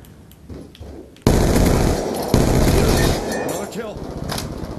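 Heavy automatic gunfire in an online multiplayer shooter game, a loud dense burst starting abruptly and continuing as sustained rattling fire, with voices in the background.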